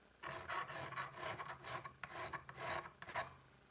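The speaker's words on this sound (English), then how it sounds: "Make sure you're doing stuff on the push stroke with the file." A hand file rasps against metal in a home workshop, several rough scraping strokes in quick succession with brief gaps, close but fairly quiet and heard on its own.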